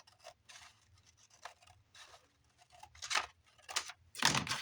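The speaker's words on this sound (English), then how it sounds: "Let's trim straight down here." Paper is trimmed for a handmade fairy journal page with a series of close, dry snipping cuts in uneven rhythm. The cuts grow louder and fuller toward the end.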